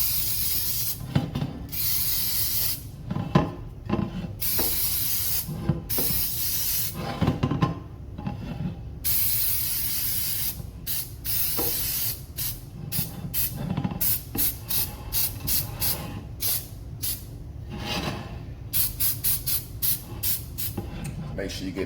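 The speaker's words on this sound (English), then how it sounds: "So just get us a nice good spray." Bursts of non-stick flour cooking spray hissing from an aerosol can into a cake pan, many short sharp sprays in uneven succession, close and fairly loud, with a voice talking between them.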